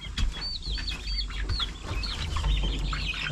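Hens cluck and chatter in a homestead chicken run, a steady close chorus of short calls with occasional wing flaps and no talking.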